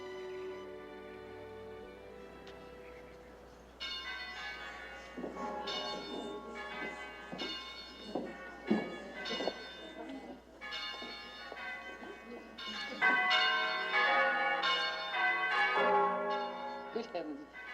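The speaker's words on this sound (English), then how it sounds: "Mother, all the bells at once. We've never done it before." Many church bells peal together at a convent abbey, a dense, overlapping clangour that swells and carries throughout, growing louder near the end, with a quiet hum beneath.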